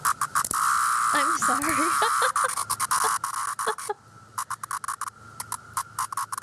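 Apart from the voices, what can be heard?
recording of a single cicada calling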